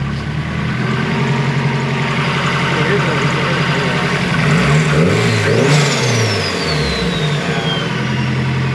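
A 500+ hp SR20 engine in a Nissan 240SX S14, fitted with a large exhaust with ISR blast plates and two resonators, starting for the first time and revving loudly up close. Voices talk over the steady, rumbling idle.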